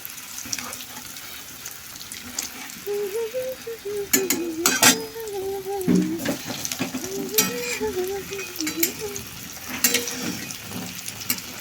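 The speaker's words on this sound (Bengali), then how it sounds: "তেলটা ভালোই গরম হয়ে গেছে চলো এবার এগুলো একটু ফ্রাই করে নিই সুন্দর করে" Vegetable chops fry in hot oil with a steady sizzle, punctuated by sharp clatters and scrapes from a home kitchen, while a faint tonal hum wavers underneath.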